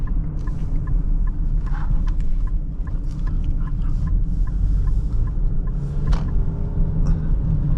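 A 2024 Nissan Rogue S on the move gives a steady low engine and road drone that stays muffled and even throughout, with faint scattered ticks and clicks above it and no voices.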